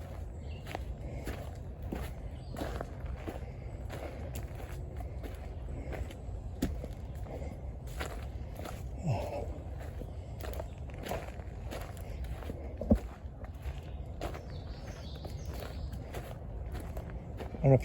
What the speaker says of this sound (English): I don't know if you can hear my footsteps now.